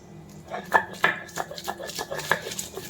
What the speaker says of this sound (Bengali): এই যে নিমিষ করে এভাবে বেটে নিব সবটুকু